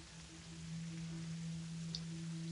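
Rain falls in the video game Terraria as a soft, steady hiss beneath a faint sustained low hum, with no talking.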